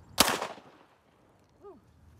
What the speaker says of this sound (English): Let's go ahead and take a shot at that 2-liter.